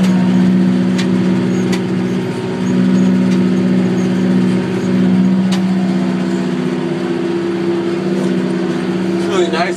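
A McCormick tractor with a cab drives a bush hog mower, a loud continuous engine drone with a steady low hum that swells slightly at times, recorded close by.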